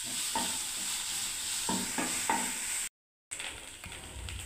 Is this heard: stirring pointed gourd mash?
yes